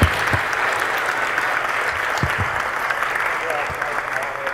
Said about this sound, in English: one more big round of applause for Dustin Freeman